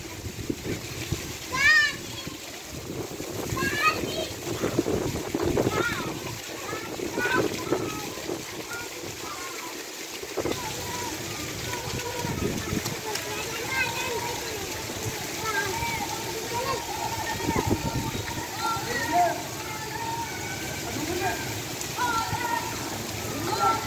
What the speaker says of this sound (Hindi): ये देखो तेज़ बारिश हो रही है।